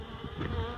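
Honeybees buzzing densely inside a barrel, a continuous close hum that swells slightly over a brief moment, with no voices.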